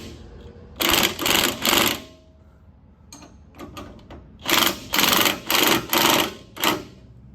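A pneumatic impact gun tightens bolts in loud, close rattling bursts: three in quick succession, a pause with softer clatter, then five more bursts.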